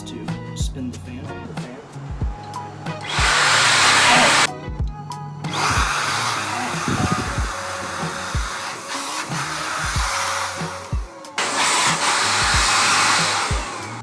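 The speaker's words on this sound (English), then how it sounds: "I can tell you that generates a lot of blowing power." Electric, battery-free computer duster rated at 90 CFM blowing hard in steady bursts, a loud broadband whoosh that cuts in and out several times, with handling clatter between bursts.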